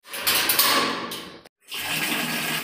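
Water running during a bath at home, a close, splashy gush that stops abruptly for a moment and then resumes just as strongly, with no voices.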